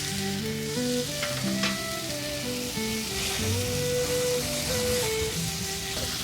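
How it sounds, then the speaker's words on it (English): Bacon frying in a pan gives a steady, dense sizzle with crackling pops, close and even throughout, under a faint low hum of background music. "The trick with bacon is not to cook it too fast."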